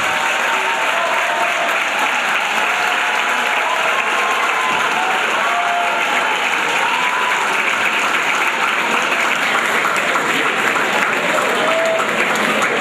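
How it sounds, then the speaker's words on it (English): A large audience at a medical and dental induction ceremony applauds the new inductees, a thick, continuous wash of clapping that stays loud and steady throughout with a faint murmur of crowd underneath. "Can we give all of them a round of applause?"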